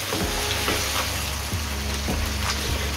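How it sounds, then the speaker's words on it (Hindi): Chicken browning to golden in hot oil in a pot for chicken pulao gives a loud, steady sizzle, broken by a few soft stirring knocks and clatters. "अभी चिकन को भी हमने अच्छे तरीके से इधर गोल्डन कर लेंगे।"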